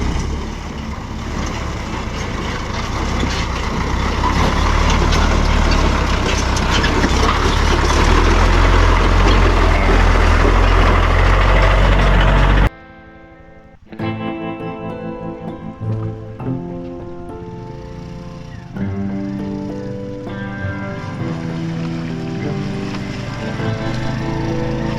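A motorbike crosses a shallow stream, its engine rumbling under a loud rush of splashing water for about twelve seconds before the noise cuts off and music takes over.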